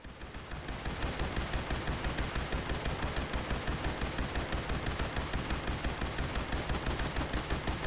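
Automated turrets in Fallout 76 fire continuously in a dense, rapid stream of loud, evenly spaced shots that start after a brief lead-in and hold steady without a break.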